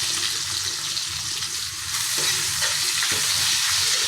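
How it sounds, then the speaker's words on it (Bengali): Mango pieces fry in a pan with mustard seeds and salt, making a steady, dense sizzle and bubbling crackle, with a couple of faint stirring knocks. "আমগুলোকে একটু ভেজে নিলাম"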